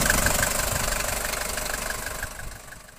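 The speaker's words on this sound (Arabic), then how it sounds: "ها هو خويا الموطور مليح ها" A Mercedes 240 car engine idles steadily up close, a continuous even rumble with a fine rapid pulsing texture and no talking over it.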